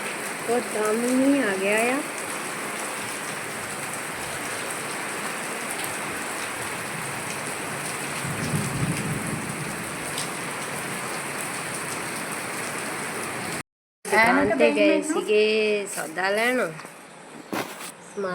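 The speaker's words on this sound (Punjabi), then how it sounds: "ਦੇਖੋ ਜੀ ਬਹੁਤ ਜ਼ੋਰ ਦੀ ਬਾਰਿਸ਼ ਹੋ ਰਹੀ ਹੈ" Heavy rain pours down in a dense, continuous hiss, close and loud, with a voice speaking at the start and again near the end.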